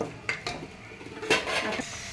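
Whole spices such as green cardamom, star anise, peppercorns, cloves and mace are stirred in a cooking pot, giving a few sharp metallic scrapes and clinks over a faint sizzle.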